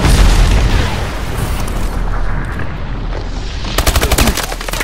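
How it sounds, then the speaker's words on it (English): Heavy missile-strike explosions in Call of Duty: Advanced Warfare, a loud rolling boom at the start, then sustained rumbling blasts and a rapid crackling burst of impacts near the end, with no talk. "Friendly missile strikes incoming"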